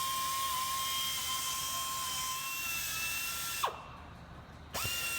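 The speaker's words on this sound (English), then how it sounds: "I will gently go over the area with the rotary and just polish to" Rotary polisher with a wool pad buffing metal, a steady high whine that drops in pitch briefly near the end and then picks back up.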